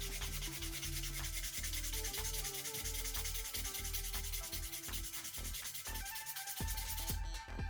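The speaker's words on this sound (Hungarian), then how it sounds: "egy reszelővel síkba kell csiszolni." A hand file rasps back and forth flattening a PS Portal Hall-effect analog stick mod part, a continuous gritty scraping in steady strokes, close and fairly loud, with no voices.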